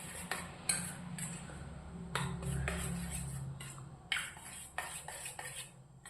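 Egg and wheat dosa batter stirred together in a bowl, with repeated clinks and scrapes of a spoon against the bowl, fairly close and quiet, with no talk.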